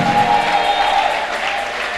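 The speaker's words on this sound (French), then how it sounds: "Acclamons pour la gloire de Dieu. eta maboko makasi mpo na nkembo na nzambe." A church congregation claps together in a dense, sustained burst of applause, with a faint steady tone running through it.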